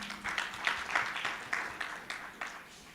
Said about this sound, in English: Another round of applause to Kim,